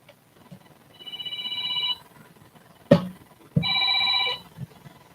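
Two electronic telephone rings, each about a second long with a gap between, sound alone and close with no talking.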